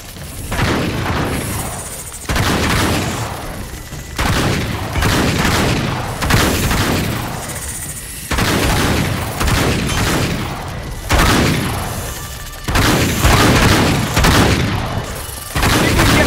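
Dense, continuous gunfire and repeated explosive booms from combat in the video game Uncharted 3, loud and sustained throughout with heavy bursts and little pause.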